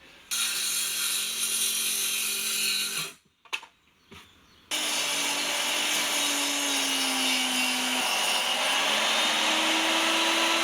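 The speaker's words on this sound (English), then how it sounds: "I'll get these into shape, cut them to length, cut them to spec." Year-old cured cedar boards cut to length with a power saw, a loud steady whining drone running for several seconds, a brief pause with a few knocks, then a longer continuous cut.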